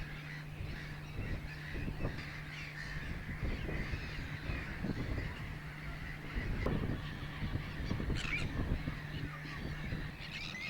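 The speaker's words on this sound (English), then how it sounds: "I had never seen so many great black-backed gulls in one place" Harsh, croaking calls of great black-backed gulls repeat over a steady low hum, several birds calling irregularly at middle distance with constant background noise.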